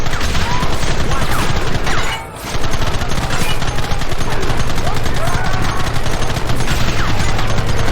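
Rapid, dense gunfire in Red Dead Redemption, a loud continuous fusillade of overlapping shots that briefly drops off for a moment before resuming at full intensity.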